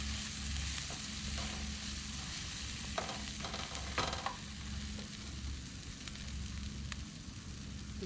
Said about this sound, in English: Turn the heat down on the onions.